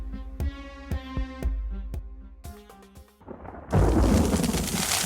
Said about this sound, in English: Her heavy rain and pounding marble-sized hail destroys the beauty and sanctity of the pond.